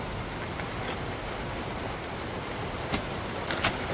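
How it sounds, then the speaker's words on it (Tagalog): Heavy rain pours steadily in the mountains, a dense continuous hiss with no let-up, plus a couple of brief sharper spatters near the end. "lakas ng ulan"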